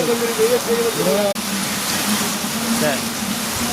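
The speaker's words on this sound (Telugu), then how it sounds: "చిలకలూరుపేట నాట్య సెంటర్ వర్షం బీభత్సంగా పడుతుంది చూడండి" Heavy rain hisses continuously close by at a town centre in Chilakaluripet, with someone talking over it throughout.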